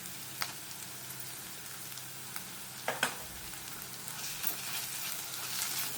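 Ginger garlic paste frying in a pan gives a soft, steady sizzle close by, quiet overall, broken by a few small pops and the clink of stirring.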